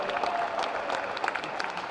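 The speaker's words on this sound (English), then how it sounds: "Round of applause for that one." Audience applause at a pasty crimping contest during the World Pasty Championships, a moderate steady patter of many hands clapping without talk.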